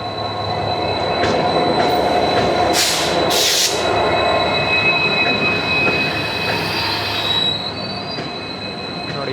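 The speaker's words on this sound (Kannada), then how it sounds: "ಸೊ ಇವಾಗ ನಮ್ಮ ಟ್ರೈನ್ ಬರ್ತಾ ಇದೆ ನೋಡಿ. ಟ್ರೈನ್ ಬಂದಿದೆ, ಬ್ಯಾಂಗ್ಳೂರ್ ಎಕ್ಸ್ಪ್ರೆಸ್" The Bangalore Express rolls into a station with loud, sustained wheel squeal and rumbling carriages, two sharp hissing bursts of brake air partway through, close and continuous before easing off.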